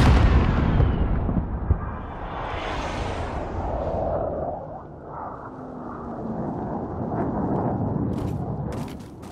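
A grenade explosion in the video game Modern Warfare: a loud, deep rumbling blast that rolls on and slowly decays, with scattered sharp cracks of gunfire near the end.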